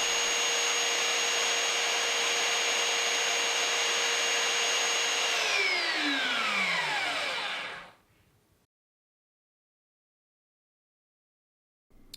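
Triton TA1200BS 76mm belt sander running steadily with a loud, close, high motor whine, then switched off so the pitch slides down as it spins to a stop, leaving near silence.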